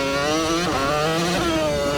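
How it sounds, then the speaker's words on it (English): A supercar engine in the Unturned video game at high speed, around 200 km/h: a loud, high-pitched, close whine with a shrill, F1-like rasp that dips and climbs again in one brief burst, no speech. "Yeah, it just sounds like an F1 car. But this is 200 kilometers an hour."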